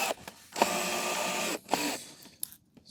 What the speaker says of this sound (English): Okay, so I'm going to drive this in on the other side now.